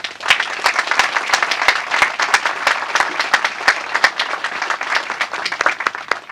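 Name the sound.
applause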